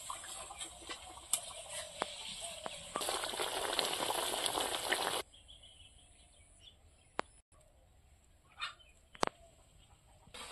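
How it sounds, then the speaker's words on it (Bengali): A pot of vegetarian taro (kochu) curry bubbles quietly at close range. A denser burst of boiling rises for a couple of seconds, then settles to faint simmering with a few clicks. No one talks. "এবার তরকারিটা ভালো করে ফুটিয়ে নেব।"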